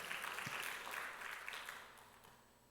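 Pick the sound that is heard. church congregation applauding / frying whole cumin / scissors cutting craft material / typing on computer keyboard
church congregation applauding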